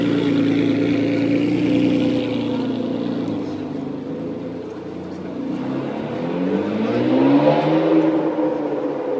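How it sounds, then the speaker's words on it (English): A Ferrari 599 GTO V12 with a straight-piped aftermarket exhaust revs loudly and continuously, its harmonics sweeping upward in a surging climb near the end, close and dominant throughout. "What a sound from the beautiful V12."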